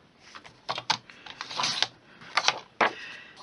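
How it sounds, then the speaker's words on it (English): A paper trimmer slicing designer series paper at a craft desk, a series of close scraping and rasping strokes with short pauses between them. "So I'm going to cut it by 5 first."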